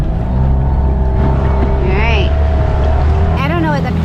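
Small lancha water-taxi motorboat crossing a wake, engine droning loud and close with water slapping the hull, while voices talk over it.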